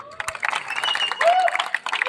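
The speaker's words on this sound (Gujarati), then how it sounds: "એટલે ગાંધીનગર માટે જોરદાર તાળી થઈ જાય" A crowd in Gandhinagar claps and cheers briefly at a furniture store event, with scattered applause and whoops over about two seconds, a voice or whistle-like tone rising through the middle.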